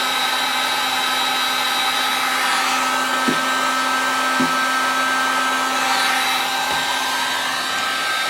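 A heat gun blows hot air over heat shrink tubing, giving a steady, fairly loud whooshing roar with a low hum beneath. The sound runs unbroken for the whole stretch, with a few faint clicks.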